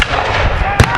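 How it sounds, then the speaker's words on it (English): An 8-pound cannon firing at a battle reenactment: one sudden, deep, loud boom near the end, after a busy stretch of background noise. "that's an 8-pound cannon right there every time you shoot"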